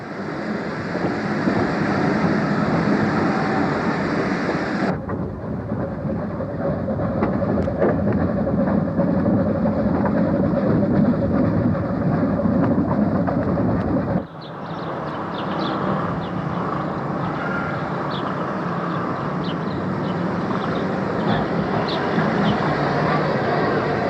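A heritage railway locomotive and train run on the line to Tenterden, giving a loud, continuous rumbling roar with rattling that stays close for the whole stretch, with two abrupt shifts in the noise and no clear speech.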